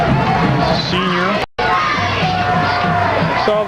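Home crowd at a Seminole high school homecoming football game cheering loudly and steadily, with shouts and whoops throughout, broken by a brief dropout midway.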